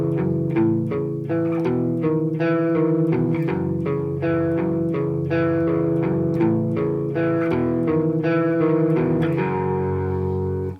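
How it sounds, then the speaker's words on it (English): Electric guitar riffs in steady eighth notes, looped from a beginner lesson, with palm muting, distortion and a delay effect, played loud and continuous with no gaps. "So if I just play a couple of those riffs in a loop for you so you can see how they fit together"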